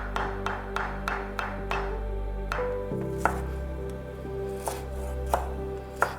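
Sharp, evenly spaced knife chops on a cutting board while preparing ingredients such as prawns, cured ham and char siu for Yangzhou fried rice, close and crisp, roughly a dozen strikes with a steady background hum.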